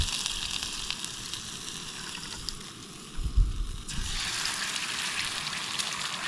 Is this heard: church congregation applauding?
no